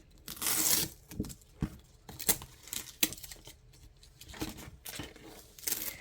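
Adhesive vinyl is peeled from a worn, low-grip Cricut cutting mat, giving close crackling tears and crinkles in irregular bursts, loudest at the start and then in short intermittent pulls.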